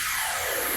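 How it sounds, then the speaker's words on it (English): A DJ sampler whoosh effect triggered on a Pioneer DDJ-SX2 controller, heard as a short, loud, sustained airy rush of broadband noise lasting under a second, with no talk over it. "And then I have like a whoosh sound."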